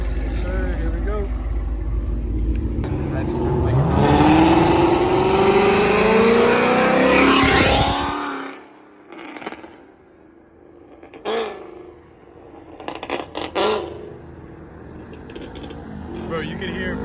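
A Ford Mustang engine revs loudly as the car builds speed and roars past on a road, then cuts off abruptly. Quieter, scattered revs and noises follow, with talk in the background.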